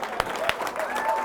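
An audience at a public speaking contest applauds, a short wash of clapping and crowd noise with a couple of sharper claps standing out and faint voices underneath.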